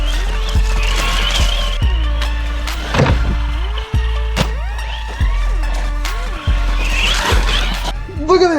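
Haiboxing 2995 brushed RC car with big tires on a 3S lipo, doing backflips: an electric motor whines up and down in repeated rising surges, with tire scrabbles and thumps from landings, loud and close.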